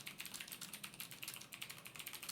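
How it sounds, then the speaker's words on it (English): Rapid, continuous computer keyboard typing, a busy stream of key clicks with no pauses, close and fairly quiet, no voices. "It sounds like someone typing furiously in the comments."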